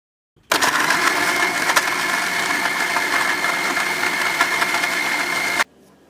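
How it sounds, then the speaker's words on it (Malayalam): Blender whirring steadily as it grinds soaked almonds with milk into a protein shake: a loud, close, continuous motor whine that starts abruptly, holds about five seconds, then cuts off. "കുറച്ച് പാൽ ചേർത്തതിന് ശേഷം നമുക്കിതിനെ ഒന്ന് അരച്ചെടുക്കാം."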